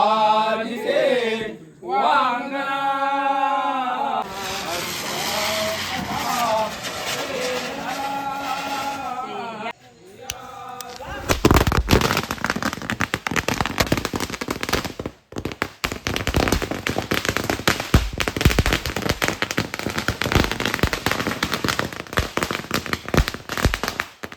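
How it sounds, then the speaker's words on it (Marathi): A voice and music give way to a long, loud barrage of firecrackers at a Tulsi wedding celebration in Konkan, rapid sharp bangs crackling densely and continuously. "फटाके पण जबरदस्त फुटले"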